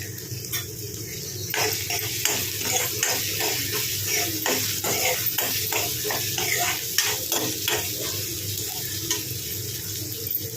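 Ginger-garlic paste and turmeric fry in a pan, a steady close sizzle with soft stirring scrapes throughout.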